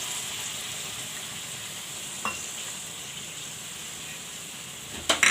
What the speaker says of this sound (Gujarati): આપણે દોઢ વાટકી પાણી નાખ્યું છે આમાં